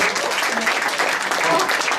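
Steady applause from a church congregation fills the clip, dense clapping with a voice faintly mixed in.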